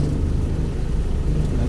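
A motorcycle engine running nearby on a city street in Iligan City, a steady low rumble holding at an even level throughout with no talk over it.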